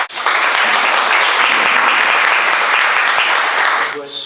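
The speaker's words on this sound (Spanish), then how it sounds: "le damos un aplauso a Jesús Díaz" A youth pastoral gathering gives a hall-filling burst of applause, dense and sustained for about four seconds before a voice begins speaking at the end.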